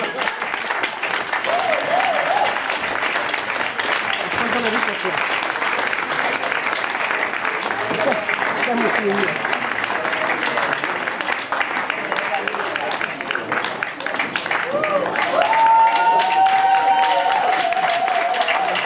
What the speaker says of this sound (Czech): Ještě prosím potlesk